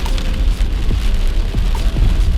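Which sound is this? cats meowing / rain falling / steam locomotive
rain falling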